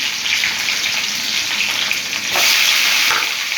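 Long-sliced onions dropped into hot oil for veg chowmein give a loud, dense, continuous sizzle close by, swelling briefly louder partway through as they hit and are stirred in the pan.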